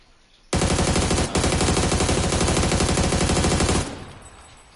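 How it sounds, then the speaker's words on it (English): Rapid automatic gunfire in PUBG, a loud close burst of sustained fire lasting about three seconds with one brief break, then cutting off into quiet. "What are you shooting at?"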